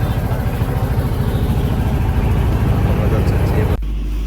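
A motorboat's steady, loud engine drone with a low pulsing rumble runs continuously on open water of Nikli haor, then drops abruptly to a quieter hum near the end.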